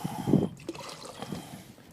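Water poured into a dry mortar mix for patio pointing, a short soft trickle and splash up close that fades into quieter dribbling.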